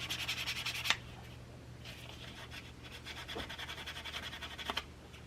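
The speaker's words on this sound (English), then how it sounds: "you can see as I'm sanding," Sanding a jewelry piece by hand with a vintage sanding block: steady, close scratchy rubbing strokes in repeated passes, with a couple of sharper scrapes over a low constant hum.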